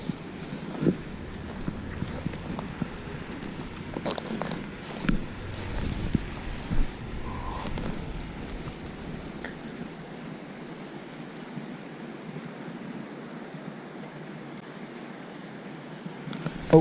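Wind gusts across a pond bank on a cold day, a soft low rumble and buffeting against the microphone, fairly faint and steady with a few stronger gusts, then dropping away toward the end.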